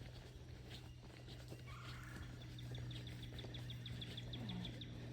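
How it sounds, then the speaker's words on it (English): Birds call along a wooded trail in Fort Loudoun State Park, with a quick run of high, evenly spaced chirps a short way off over a steady low outdoor hum. No one speaks. "So if you listen, there are a lot of birds out."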